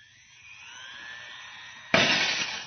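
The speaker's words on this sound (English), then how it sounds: "The glass was shattered." Glass on a table shatters as a radio drama sound effect: a faint tone fades in and gives way to a sudden loud crash of breaking glass, which rings on briefly.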